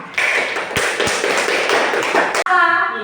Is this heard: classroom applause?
yes